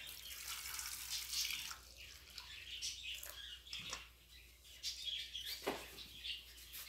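Hot water pours and splashes steadily into a pot of vegetables being pickled, with a few faint bird chirps in the background.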